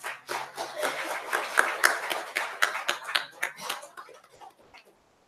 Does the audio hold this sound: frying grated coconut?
no